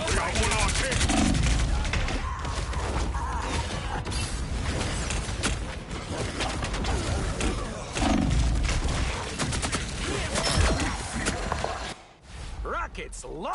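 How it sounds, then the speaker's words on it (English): Rockets launch repeatedly in the Marvel Rivals game, a busy wash of whooshing, mechanical clanks and rapid bursts with surges of loud firing, with voices mixed in among the battle noise. "Rockets launching again."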